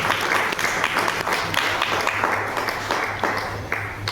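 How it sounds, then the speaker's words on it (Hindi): Audience applause at a business training session, a dense wash of many hands clapping steadily for several seconds, loud and close, with a low hum underneath. "उनके लिए एक जोरदार तालियां होनी चाहिए"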